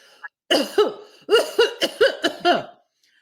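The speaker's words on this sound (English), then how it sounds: "I need you to do about 4 or 5 deep belly coughing" A voice demonstrates a series of about seven deep, forceful belly coughs in quick bursts, close to the listener, after a brief sound at the start.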